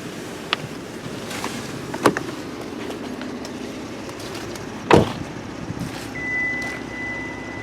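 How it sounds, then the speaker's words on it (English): A 2018 Kia Stinger GT2 sounds a thin, steady electronic reminder tone near the end while its engine keeps running, faint over a quiet cabin hum with a couple of soft thumps earlier. "That beeping is just to remind us that the engine's still running."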